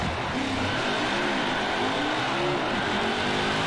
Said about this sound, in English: this time I'm gonna do a burnout